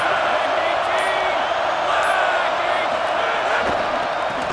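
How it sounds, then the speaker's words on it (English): Dense, steady roar of a large football stadium crowd cheering to support its defense, loud and continuous throughout with no break, under faint broadcast commentary. "Listen to this crowd just shaking the girders of this place"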